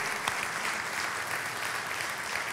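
A church congregation applauds during a sermon, a dense, steady roar of clapping that holds evenly throughout at moderate loudness.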